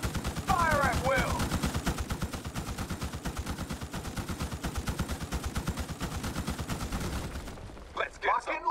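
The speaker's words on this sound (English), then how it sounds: "Fire at will." Rapid automatic gunfire from the Starship Troopers Terran Command strategy game hammers on in a dense, steady stream of close shots, with voiced unit callouts briefly heard over the barrage.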